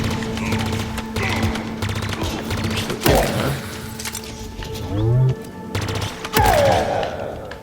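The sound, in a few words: grenades and gunfire in the video game Halo Infinite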